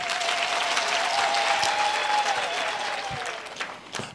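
Mourners at Busani 'Ntshebe' Khuzwayo's funeral service applaud in a dense, steady crowd clap that fills the whole stretch and thins slightly toward the end, with a faint sustained tone running through it.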